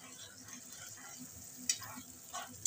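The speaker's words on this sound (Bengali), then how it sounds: "এবার মশলাটাকে কষিয়ে নেব সামান্য" Spice paste for a pomfret masala sautéing in a pan, a steady low sizzle with a few louder scrapes and stirs near the end.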